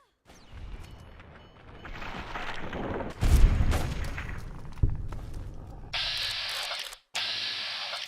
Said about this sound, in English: I also set off the frag mines down below